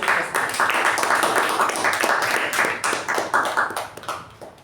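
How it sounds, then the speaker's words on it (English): Audience applause at a Toastmasters club meeting: a dense, steady stretch of many hands clapping at fairly close range, holding strong for about four seconds before thinning out toward the end. "Can we have a big round of applause for Toastmasters?"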